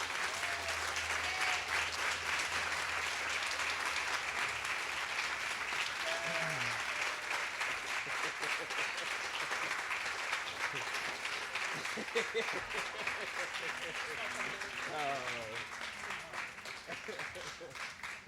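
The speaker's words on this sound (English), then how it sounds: "Please give them a huge round of applause as they join me on stage." A crowd at an all-school assembly claps steadily for award recipients joining the stage, a long unbroken wash of applause with brief voices and cheers surfacing underneath.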